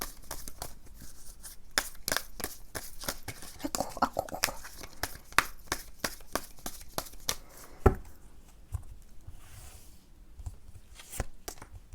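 Tarot cards being shuffled and drawn by hand, a run of quick, crisp papery flicks and snaps close up, irregular and fairly quiet, with no talking.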